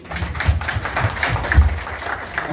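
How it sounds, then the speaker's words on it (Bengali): Applause from an audience at a Bangladesh Awami League platinum jubilee gathering in New York, with scattered clapping and taps under the hall's ambient noise, fairly brief and moderate in level. "ভাইজনের একটা হাততালি"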